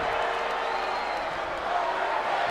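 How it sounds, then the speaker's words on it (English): Arena crowd in the WWE 2K19 wrestling game chanting Undertaker's name, a dense continuous roar of many voices filling the space, loud and steady throughout. "The crowd chanting Undertaker's name."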